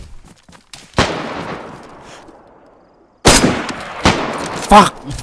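Gunshots in the video game DayZ ring out as several sharp, loud reports spaced a second or two apart, each with a fading echo trailing behind it.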